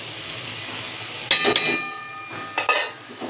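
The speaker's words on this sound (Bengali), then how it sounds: "ওপরে মাছ দিয়ে দিই" Fish pieces for a rohu fish chorchori curry going into the simmering pan and being stirred: a quiet low sizzle broken by two clusters of metallic clinks and scrapes from the spatula, close, with no speech.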